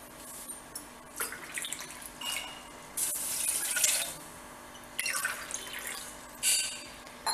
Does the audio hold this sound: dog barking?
no